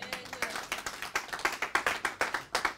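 A church congregation claps in unison to acclaim the Lord after forty days of fasting and prayer, a steady run of sharp, close hand claps with no voices over them.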